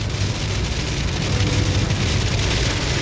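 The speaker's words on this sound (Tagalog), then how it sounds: "sobrang lakas dito ng ulan" Heavy rain pours down steadily in Saudi Arabia, a dense, loud, unbroken hiss of drops hitting surfaces close by, with a low rumble underneath.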